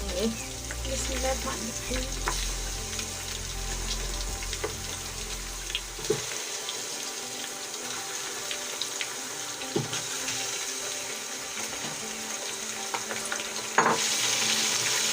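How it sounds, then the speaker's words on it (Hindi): Chicken with garlic and ginger sizzles and fries in a pan, a steady crackle close by with occasional stirring scrapes and clinks, the sizzle fading somewhat partway through. "चिकन को हम अच्छी तरीके से भून लेंगे, उसका कच्चापन ख़त्म कर देंगे।"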